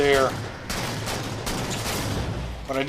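A railgun firing in the Halo 4 campaign: a sharp powerful shot crack followed by several quick booming impacts and rumbling gunfire, with brief musical or electronic tones at the start and end.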